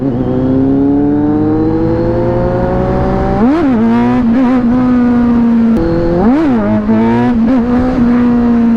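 Kawasaki Z900 motorcycle engine idling steadily, then revved sharply twice in quick blips that rise and fall back, close and loud with no talking.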